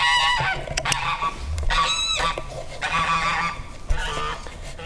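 Backyard hens outdoors in the sunshine make loud, close, repeated squawking and clucking calls in short harmonic bursts that overlap one another, with no talk.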